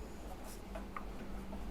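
A pen scratches faintly while writing out a class 10 maths solution on Euclid's division algorithm, with soft, brief strokes over a low steady hum.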